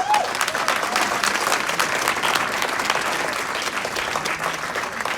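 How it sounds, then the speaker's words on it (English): An audience at an Enagic compensation-plan presentation gives steady, sustained applause, a dense, even patter of many hands clapping at moderate volume with no talk over it. "Can we give all of those 6As a round of applause?"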